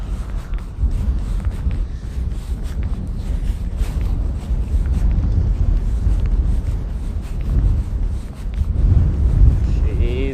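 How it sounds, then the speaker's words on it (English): Wind blows straight into the microphone outdoors. A gusty, rumbling low buffeting runs continuously through the whole stretch, rising and falling slightly in strength. "She's windy."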